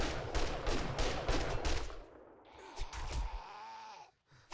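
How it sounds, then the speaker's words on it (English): Gunfire in 7 Days to Die, a run of loud sharp shots for the first two seconds, then a quieter stretch of scattered impacts and rustling that fades to near silence. "I would guess that's him shooting, right?"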